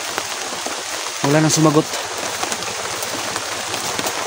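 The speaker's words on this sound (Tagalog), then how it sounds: "Dating ulan guys." Steady rain falls outdoors as a continuous broadband hiss, with a short burst of someone talking over it near the start.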